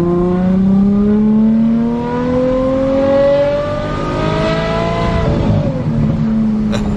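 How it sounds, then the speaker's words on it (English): Ferrari F12 V12 engine in manual mode revving up steadily through the gears, a loud rising howl from inside the supercar, with a brief shift and drop near the end. "put this in manual mode so you guys can hear the glorious sound of the F12, V12"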